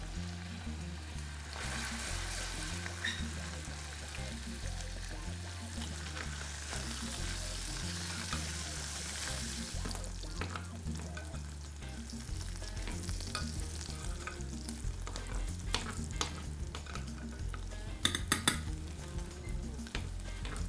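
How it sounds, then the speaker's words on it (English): Steady crackling sizzle of bacon frying in a pan, continuous and close, with occasional sharper pops and a faint scrape near the end. "the bacon's now frying off really nicely"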